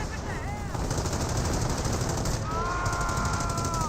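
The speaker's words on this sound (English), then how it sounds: "30 cal emplacement, getting some great hits there" A .30 cal machine gun emplacement fires in the WWII strategy game Company of Heroes, rapid continuous bursts rattling close and loud throughout amid battlefield noise.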